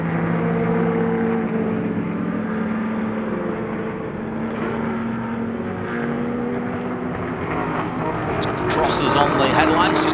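A 1962 Ferrari and a 1958 Porsche race car pass in a vintage production/GT race at Sonoma, engines droning loud and steady throughout with a rising, rasping note near the end as a commentator talks over it.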